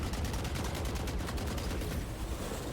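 Sustained automatic gunfire in Valorant, a whole magazine dumped into Deadlock's large barrier node, a dense, steady, loud stream of rapid shots with no pause.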